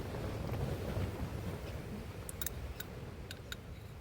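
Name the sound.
wind rattling a tent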